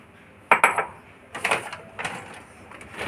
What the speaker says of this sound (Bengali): গ্যাস জ্বালিয়ে কড়াইতে মাখানা দিয়ে দিলাম।